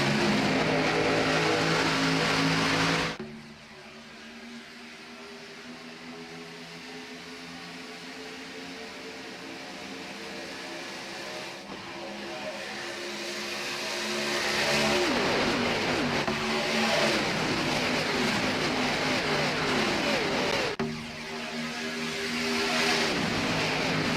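Race cars at Daytona in iRacing roar in a loud, steady pack, engines droning continuously with swells and dips as cars pass close by, no talk over them.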